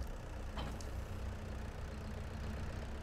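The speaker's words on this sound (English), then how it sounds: "we're going to get the seeder attached to our tractor" A tractor engine idles steadily in a farming simulator game set on a farm in Eastern Europe, a continuous low rumble that stays level throughout, with a brief higher hiss near the start and no talk.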